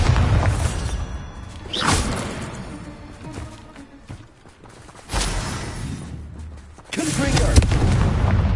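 Bombarda blasting-spell explosions in the Hogwarts Legacy video game, several loud booming blasts with whooshing bursts separated by quieter gaps.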